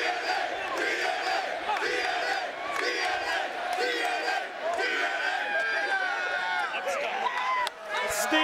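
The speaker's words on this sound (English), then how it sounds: "you can hear the crowd as they appreciate it." A TNA wrestling arena crowd roars and yells continuously in a loud, wide wash of noise, with a commentator talking over it.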